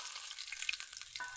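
Fish pieces frying in hot oil give a steady, soft sizzle with faint crackles and a light clink near the end, without any voices.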